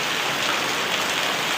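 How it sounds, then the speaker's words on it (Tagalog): Heavy evening rain pours steadily in a dense, unbroken hiss, loud and close, with no voices over it. "Ang lakas ng ulan ngayon guys"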